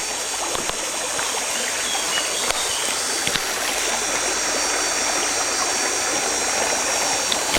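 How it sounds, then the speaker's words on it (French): A river stream flows outdoors in the wild, a steady, close rush of water with faint trickles and occasional small splashes, heard alone without talk. "Regarde, regarde, une rivière."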